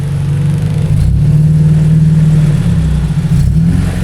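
A white Honda Civic EJ hatchback engine hums in a low, steady drone that swells as the revs rise, loud and close, with no voices over it.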